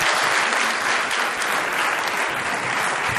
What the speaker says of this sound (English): A wonderful round of applause, sir.